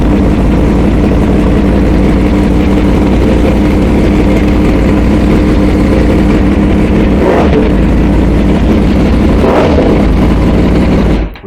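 A 2023 Yamaha MT-10 motorcycle with a Leovince midpipe/decat exhaust idles loudly and continuously close by, a deep rumble with a few brief revs, then cuts off at the end.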